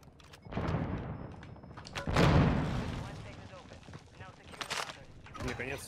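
Gunfire in the video game Warzone 2: several loud bursts and thumping shots come in uneven clusters, mixed with players' voices talking throughout.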